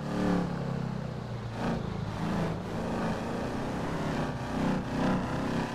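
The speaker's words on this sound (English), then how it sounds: "This car sounds so good." A car engine in the Grand Theft Auto video game holds a steady roar with rising and falling revs for several seconds. It plays alone at fairly close range.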